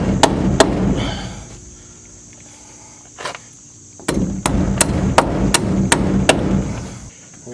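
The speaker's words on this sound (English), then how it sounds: "get our hammer over here," Hammer tapping a wooden piece into place while building a lumber shelf storage rack, sharp knocks: two early taps, one lone tap mid-clip, then a quicker run of about six, close and loud over faint background hum.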